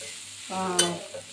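A brief scrape and clink as cooked, dry moth beans are scooped from a pan into a bowl, close and short with a faint sizzle, no talk.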